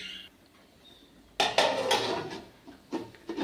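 A lid is set down on a cooking pan of soya bean pods, making a sudden close metallic clatter followed by a brief rattle and a couple of smaller clinks.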